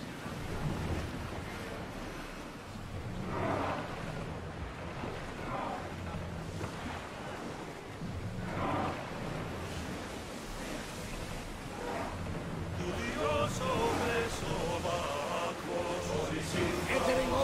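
A sailing ship pushes across rolling ocean waves in Assassin's Creed Odyssey, with surging swells, rushing wind and creaking hull sounds building louder toward the end, faint voices mixed in.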